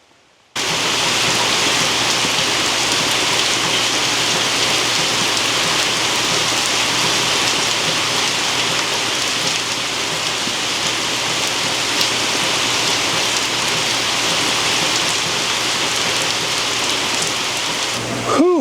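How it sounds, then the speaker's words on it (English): Heavy rain pouring down outside in hot, muggy Georgia weather, a dense, steady loud hiss of drops on surfaces that starts abruptly and holds unbroken throughout, with no voices. "it's raining so hard outside right now"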